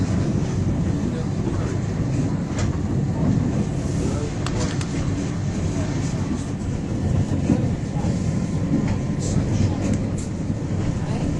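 Mountain railway train running on its line in Wales, a continuous rumbling rattle with clanking that goes on throughout, with no break and no speech.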